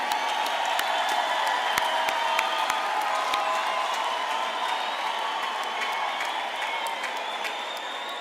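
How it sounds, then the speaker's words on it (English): A large crowd applauds graduates at a university graduation ceremony, with sustained loud clapping and scattered cheers continuing evenly for several seconds in a big hall. "let's give a round of applause to all of our adaptive graduates"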